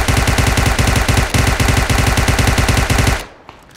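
An UMP submachine gun fitted with a compensator firing in PUBG Mobile, a loud, rapid continuous burst of evenly spaced shots lasting about three seconds before cutting off to near silence.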